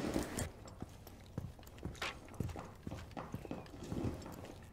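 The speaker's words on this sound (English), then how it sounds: "did you hear those footsteps?" Footsteps in the video game Rainbow Six Siege thud one after another in an irregular walking rhythm, fairly faint and spaced about every half second.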